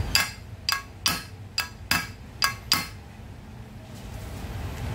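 Hammer blows tapping a new ball race bearing into the steering head of a Yamaha NMAX V1 scooter, about seven sharp metallic strikes at a steady rhythm, close and loud, then quiet.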